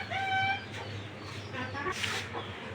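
Several hens and a rooster in a small coop with an installed fan cluck and call nearby, with a few clear, bright clucks at the start followed by softer intermittent calls and low background noise.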